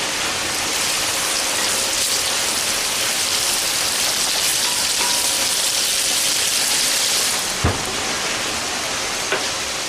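Beef pieces searing in a hot pot for stew, a steady loud broadband sizzle filling the whole stretch, close and constant, with a couple of brief knocks near the end and no talking.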